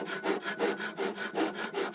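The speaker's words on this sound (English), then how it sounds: "or file I should say, and just kind of run it along there." A metal file is drawn back and forth across the blade of an EGO 56 volt straight string trimmer held in a vise, giving about seven even, close rasping strokes with no talking.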